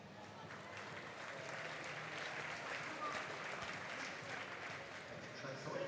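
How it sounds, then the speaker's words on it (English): A crowd at the Manchester velodrome cheering a cyclist during the British National Track Championships, a steady, fairly distant wash of applause and cheering that continues for several seconds. "The crowd's getting behind her in Manchester."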